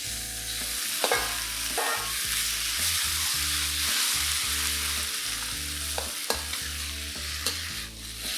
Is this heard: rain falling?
no